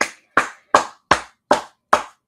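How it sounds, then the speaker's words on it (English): Six sharp, evenly spaced claps during a Sabbath service, each a crisp close slap with a quick decay into silence, steady rhythm, no talking. "Clap it up"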